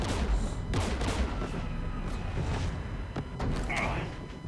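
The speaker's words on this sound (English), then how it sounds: "We're taking fire." Gunfire in the Mass Effect 3 video game, a steady barrage of muffled shots and thuds over a loud rumbling backdrop, with someone talking briefly over the din.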